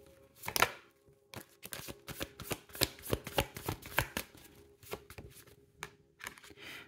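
Tarot cards being shuffled by hand, a run of quick papery riffles and taps in short irregular bursts, close and fairly loud with no talking.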